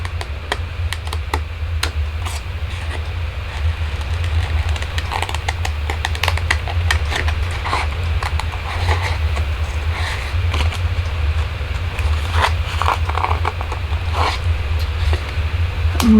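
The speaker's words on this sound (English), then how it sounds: "So I'm going to harvest what I want by just going around it with my scissors." Large scissors snip through paper as a Christmas picture is cut out, a steady run of small crisp cuts over a constant low background hum.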